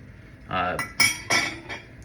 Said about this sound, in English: I'm gonna also put that fork and that knife in there